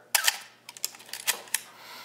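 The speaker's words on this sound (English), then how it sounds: "you can hear the shutter." Canon A1 film SLR camera shutter firing, a sharp close mechanical clack followed by several lighter clicks and a final snap, quiet between.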